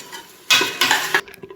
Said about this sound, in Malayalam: തൈര് ചേർത്തിട്ട് നന്നായിട്ടൊന്ന് മിക്സ് ചെയ്ത് കൊടുക്കുക